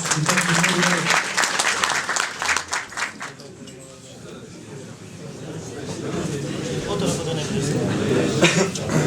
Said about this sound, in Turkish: Alkışlarınızı da şöyle alabiliriz.